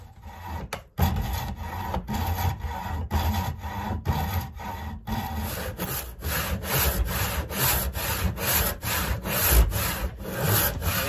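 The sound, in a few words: hand saw cutting a kerf in a wooden axe handle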